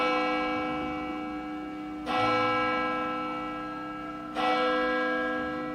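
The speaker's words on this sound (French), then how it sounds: "Voici les cloches qui sonnent." Large church bells of Église Saint-Alexandre toll slowly, two strong strikes with long rich resonance hanging between them, loud and close.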